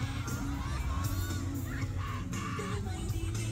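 Concert crowd cheering and shouting in a live recording played back, a dense, loud wall of voices under music with bursts of higher screams.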